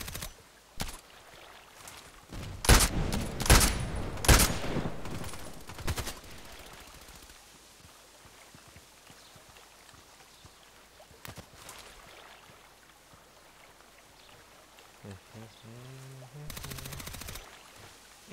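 In the online shooter Contract Wars, an AK-12 rifle fires sharp close bursts of several rapid shots early on, then scattered fainter shots and game sounds follow, with no talking.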